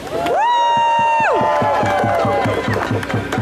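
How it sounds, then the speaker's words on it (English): Crowd at an outdoor justice and unity rally cheering and whooping, with a sustained shout and rhythmic clapping, loud and close, with voices mixed in. "Can we get a round of applause for ourselves, please?"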